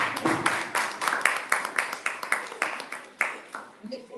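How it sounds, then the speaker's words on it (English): Classroom students clap for a classmate in a quick, even rhythm of sharp, close claps, about three or four per second, fading slightly toward the end. "Let's clap for him."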